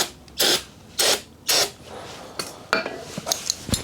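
Brake cleaner sprayed onto motorcycle engine parts, three sharp hissing bursts in a steady rhythm, followed by softer scattered spritzes and light clinks of metal parts close by.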